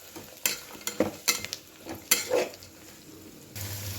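Moong dal with green chillies being stirred and fried in a pan, with several sharp scraping and clinking stirs over a soft sizzle, close and fairly loud.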